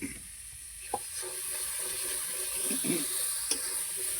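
Drumsticks sauté with turmeric and tomato paste in a pan, a soft, steady sizzle broken by a few light clinks and stirring scrapes.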